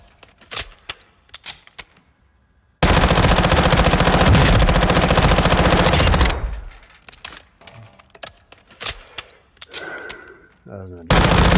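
A custom-built gun fires in Call of Duty MW2 DMZ: a long, loud sustained automatic burst of about three and a half seconds, then scattered shorter shots and clicks, with another burst starting at the end.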